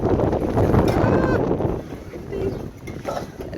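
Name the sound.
wind blowing on microphone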